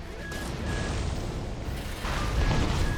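An explosive thrower blast in Armored Core 6 gives a loud, sustained rumbling burst of noise that swells again near the end, dense and close with no talking.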